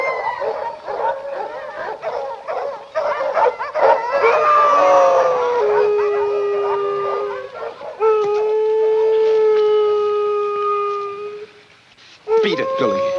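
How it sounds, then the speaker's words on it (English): Dogs howl and yip in a scene from the 1948 film noir Moonrise, long rising and falling howls overlapping one another, loud and close, with short barks and a voice faintly under them. "Don't know what's bellyaching those dogs."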